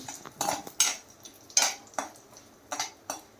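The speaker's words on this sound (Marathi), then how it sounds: "खरपूस भाजून घ्यायचं तुपामध्ये" A spoon scrapes and clinks against a metal pan while semolina roasts in ghee, giving a series of sharp, irregular stirring knocks and scrapes, close and fairly crisp with quiet gaps between them.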